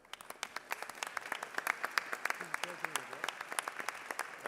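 A chamber of the Texas House of Representatives fills with applause, a dense run of many hands clapping at a lively, steady pace. It is moderately distant and carries on without a break.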